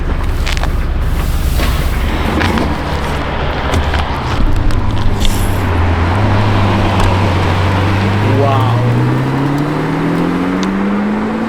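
A Lamborghini V12 car driving past in Sant'Agata, its engine note rising steadily in pitch as it accelerates, loud and close with a booming roar and some exhaust crackle.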